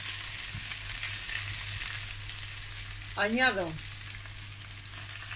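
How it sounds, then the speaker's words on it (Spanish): Garlic, onion and bay leaf frying in oil left over from browned meat, a steady close sizzle with a brief spoken word partway through. "en el mismo aceite, con toda la sustancia de la carne, pongo los ajos, la cebolla y el laurel y lo sofrío"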